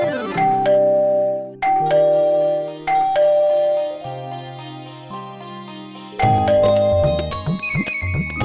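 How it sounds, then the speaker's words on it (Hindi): An electronic doorbell chimes repeatedly, a bright melodic ding-dong pattern ringing over and over, loud and close. "कैसे डोरबेल बजा रही है"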